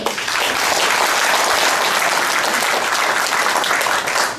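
An audience at a Korean photographers' association chairman inauguration celebration claps for the outgoing chairman and executive board, a loud, dense and sustained round of applause holding steady throughout before easing slightly at the very end.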